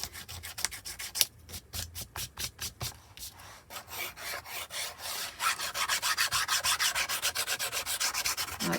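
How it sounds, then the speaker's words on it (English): Sandpaper rubs over the corners of a handmade junk journal with paper and lace, in close, rhythmic scratchy strokes that start scattered and become steady, faster back-and-forth passes. "I'm going to sand the corners a bit"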